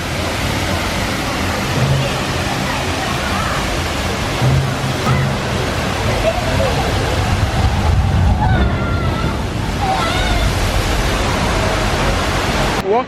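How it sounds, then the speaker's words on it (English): Water crashing in the splash zone of the Thunder Falls water ride: a loud, steady rushing roar of water that runs the whole time, with faint crowd murmur underneath. "So I stopped over here at Thunder Falls to show you the Hulk rock that Nikki painted and to catch the splash zone for a little bit"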